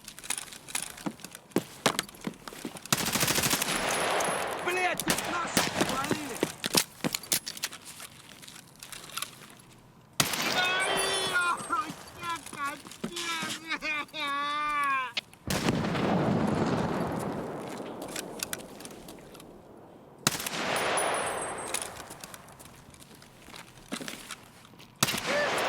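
Gunfire and loud booming shots in an Escape from Tarkov raid on the Streets map, bursts separated by brief gaps, with heavy impacts and footstep-like noises between volleys.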